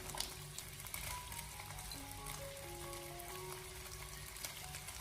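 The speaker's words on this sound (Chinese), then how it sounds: "油热以后，接着再把鸡翅给它一个一个的给它分散的放进锅里面， 开小火给它煎制一下。" Chicken wings sizzle in a pan of oil over low heat, a constant crackling fry with faint tonal whines drifting through, close and unspoken.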